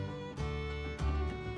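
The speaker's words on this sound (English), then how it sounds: "When I tap on the wall, it should sound the same here or here." Knuckle taps on a properly bonded plastered wall, two short, dull knocks about half a second apart, faint and close in a quiet room with a low background hum.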